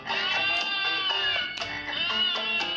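A voice imitates a cat's meow, a few drawn-out, tuneful mews in quick succession over backing music.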